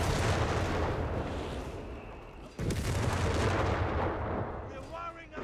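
Dense, sustained automatic gunfire and battlefield blasts from an MG42 machine gun in the Company of Heroes 3 video game, with a Wehrmacht team game in progress, loud and continuous with a brief drop midway.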